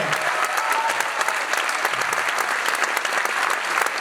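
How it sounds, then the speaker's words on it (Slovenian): An audience at a concert applauds its dancers, singers and actors with dense, sustained clapping from a large crowd, steady and fairly loud throughout. "aplavz za vse naše nastopajoče plesalce, pevce, igralce."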